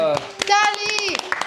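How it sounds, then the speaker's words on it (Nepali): Brief bursts of hand clapping ring out over overlapping excited children's voices during a fruit-eating challenge at the winner announcement, the claps scattered and close. "ताली"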